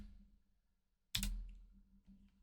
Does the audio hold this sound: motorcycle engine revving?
no